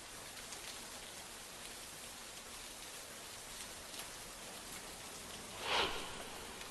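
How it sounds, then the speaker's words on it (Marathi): Heavy rain pours over the Adrano area of Catania in Sicily, Italy, as a steady, dense hiss that holds constant throughout, with one brief louder splash or gust near the end. "इटलीमध्ये मुसळधार पाऊस सुरू आहे"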